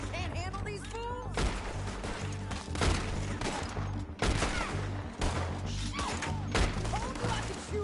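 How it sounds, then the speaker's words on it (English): Repeated gunfire bursts from a Western-style shootout in the video game Red Dead Redemption 2, sharp shots scattered across the scene over a busy game mix with voices talking. "Told you I could shoot a gun, didn't I?"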